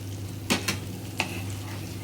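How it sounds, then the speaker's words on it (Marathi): A spoon scrapes and stirs besan pitla in a pan, giving a few soft, close strokes over a low, steady cooking hum, with no talking. "हळूहळू असं आपण ढवळायचं आहे"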